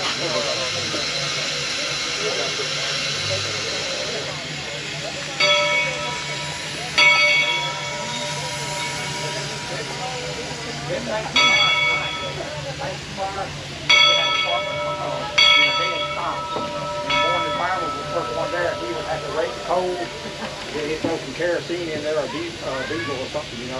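A 1916 Glover steam logging locomotive built in Marietta, Georgia runs on a half-mile demonstration track, with a constant loud hiss of steam and its bell ringing in repeated bursts. Voices murmur in the background.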